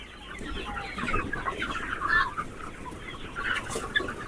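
Chickens clucking on a combined poultry and fish farm, scattered soft clucks and calls at moderate distance, with no one talking.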